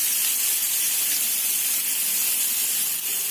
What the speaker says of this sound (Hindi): गैस का फ्लेम हाई में ही इसको अभी हमको थोड़ा सा फ्राई करना है।